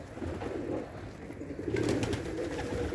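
Akbaş pigeons coo in low, murmuring calls that run steadily throughout, mixed with a constant wash of background noise and no voices.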